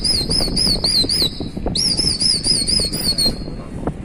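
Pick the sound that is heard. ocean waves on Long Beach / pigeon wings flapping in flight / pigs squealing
pigeon wings flapping in flight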